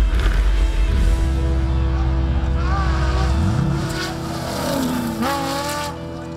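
Off-road race cars roar through the dusty opening section of the 2013 Goondiwindi 400. Engines scream loud and close, and their rising revs sweep upward as the cars accelerate away.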